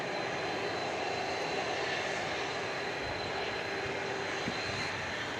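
Jet engines of a United airliner, Flight 578 bound for Chicago O'Hare, at DFW airport at night, holding a steady broadband roar throughout with no talk.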